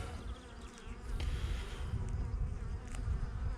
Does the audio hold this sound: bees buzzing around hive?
yes